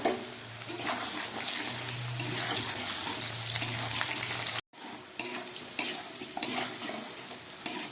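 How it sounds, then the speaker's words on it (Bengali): Potatoes frying in oil in a pan, a steady close sizzle with stirring scrapes throughout, a brief cut near the middle, then continued frying with a few louder clatters. "আলুগুলো লাল করে ভেজে নিলাম।"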